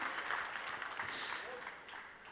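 Audience applause for a beurre blanc sauce during a chef's cooking presentation in New York City, a short burst of dense clapping at steady moderate loudness that thins slightly toward the end.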